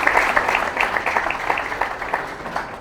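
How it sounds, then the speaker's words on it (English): Applause from the audience at the Climate Control Awards 2022 ceremony: a steady patter of many hands clapping at moderate volume, holding fairly even across the whole stretch with no voices over it. "If you can please join in a round of applause"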